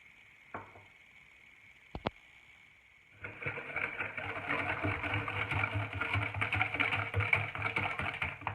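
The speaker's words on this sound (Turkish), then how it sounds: "Güzelce çırptık şeker ve yumurtayı." A hand whisk beating eggs and sugar in a bowl for a poppy seed revani cake batter, a few light taps at first, then rapid continuous clattering whisking that stays close and fairly loud.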